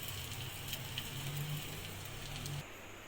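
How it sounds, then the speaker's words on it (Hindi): Nuts frying in oil in a pan while making sheer khurma, giving a steady, fairly faint crackling sizzle that runs continuously with no talking. "साथ ही हम अपने ये नट्स जो हैं इनको फ्राई कर रहे हैं।"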